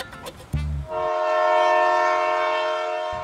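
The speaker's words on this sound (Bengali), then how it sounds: "দোস্ত ট্রেন আইতাছে" Train horn blaring loudly and steadily as a train approaches, sustained harmonic blast lasting several seconds after brief low rumbles and thumps.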